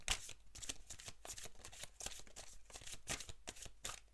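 Oracle cards being shuffled by hand in a quiet room, a soft, rapid run of papery riffles and flicks with brief gaps, close and faint.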